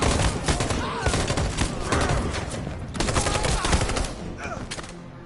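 Rapid bursts of gunfire from the video game Detroit: Become Human, loud dense volleys of shots with short gaps, close and continuous across the whole stretch.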